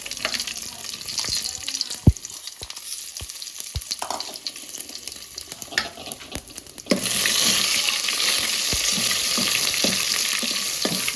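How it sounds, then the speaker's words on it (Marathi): Whole garam masala spices dropped into hot oil on a home stove, a steady close sizzle and crackle with scattered clinks and stirring knocks that jumps to a louder, fuller frying hiss partway through. "त्यात आता अख्खा खडा गरम मसाला टाकते."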